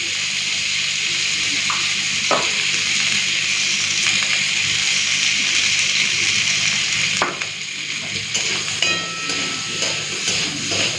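Mango pieces with turmeric and salt frying in a pan, a steady close sizzle with occasional utensil knocks and stirring.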